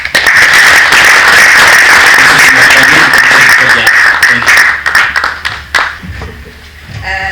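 A church gathering applauds as Mrs. Samantha Murakwani is welcomed to the podium, loud sustained clapping that thins into scattered claps and then fades near the end.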